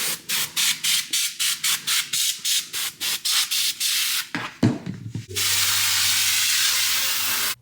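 Short sharp hissing bursts from a can of compressed air held upright repeat in a quick steady rhythm, then after a brief pause a long continuous spray hisses loudly and evenly.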